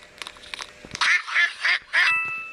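Ducks quack in a video game: four loud, close nasal quacks in quick succession, preceded by a few soft clicks and bumps, with no talk.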